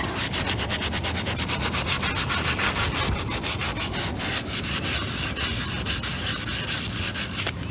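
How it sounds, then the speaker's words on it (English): Steady, continuous abrasive scrubbing of rust off a chrome wheel, a rough gritty rubbing that keeps going without pause, close and fairly loud. "You can hear it's really catching on the rust and the dirt."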